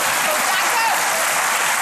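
A studio audience on a German celebrity game show breaks into steady, dense applause that fills the whole stretch at full volume.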